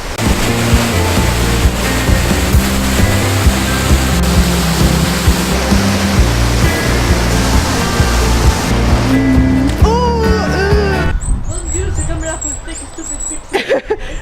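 A waterfall in the Faroe Islands gives a loud, continuous rushing roar close by, with steady broadband water noise and wind buffeting the microphone, and no clear talk.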